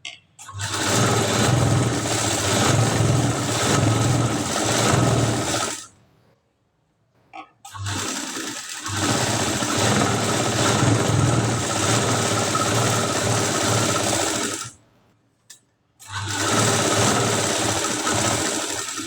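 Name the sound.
sewing machine stitching a katori blouse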